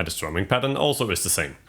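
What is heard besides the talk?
No distinct noise like a dog, phone or traffic.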